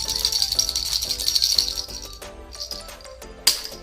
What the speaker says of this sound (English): Pink baby. Three ball rattle.